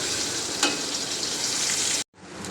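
Food browning in a hot pan gives a steady, close sizzling hiss with a brief stir, then a sudden cut to silence before the sizzle resumes.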